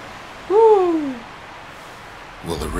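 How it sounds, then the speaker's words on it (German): A bird in the video game Bastion calls once with a clear, descending whistled note, loud and close over a quiet ambient background. "Ein Vogel. Da war ein Vogel."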